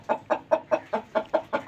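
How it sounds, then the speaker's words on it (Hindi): A hen on a farm clucks in a quick, even run of about eight short, close calls, loud and clear with nothing else over them. "ये मुर्गी इंतहाई खूबसूरत, इंतहाई VIP मुर्गी"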